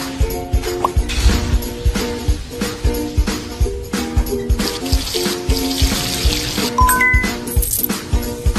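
Water poured in while mixing baking soda into toothpaste in a cartoon tooth-care game, a steady faucet-like trickle with clinks and chimes over bright game music throughout.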